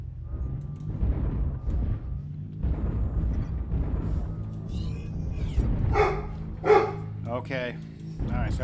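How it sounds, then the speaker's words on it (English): A dog barks a few times in the background of a gaming stream, sharp bursts rising over steady talk and game sounds near the end. "Sorry about the barking, guys."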